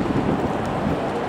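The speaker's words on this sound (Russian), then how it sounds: "и начался довольно-таки сильный ветер" Strong wind gusts on Maidan square in Kyiv roar across the microphone in a loud, continuous rumble with buffeting surges and no voices.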